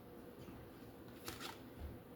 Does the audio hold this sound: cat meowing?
no